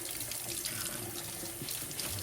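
Tap water runs steadily while a badly moldy, grungy Edison Diamond Disc record is rinsed under it, a close, continuous splashing hiss with no talk.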